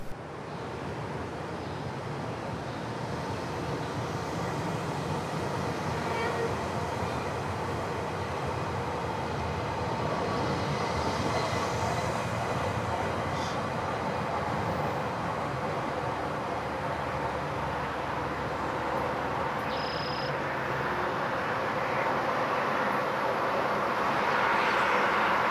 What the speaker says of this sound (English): watch as the train continues on its eastward journey to Oshawa.